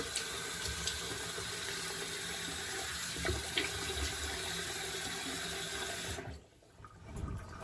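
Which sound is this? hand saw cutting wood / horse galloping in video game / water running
water running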